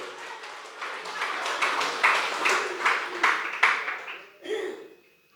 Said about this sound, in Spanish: Fuerte aplausos pojeños